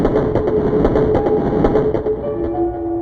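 A local train rolls past at close range with steady rhythmic clickety-clack from the wheels and a droning hum, used as a sound effect in a horror story and fading slightly at the end.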